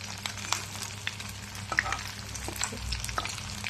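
Cubes of paneer fry in hot oil for chilli paneer, giving a steady crackling sizzle with scattered sharp pops and spatters under a low background hum, close and continuous throughout.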